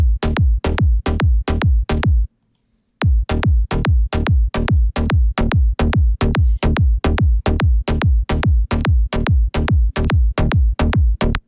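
Progressive psytrance synth bass sequence with its filter elements removed, a loud, steady run of rapid, evenly spaced bass hits that drops out for a brief gap then resumes, alone without talk.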